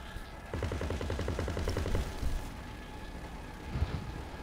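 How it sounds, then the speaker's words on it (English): Machine gun turret firing in GTA Online, a rapid rattling burst of about a second and a half followed by a few scattered heavy shots, under game noise and brief talk. "I'm the turret dude. The machine gun dude."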